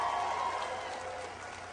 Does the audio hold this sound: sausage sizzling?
no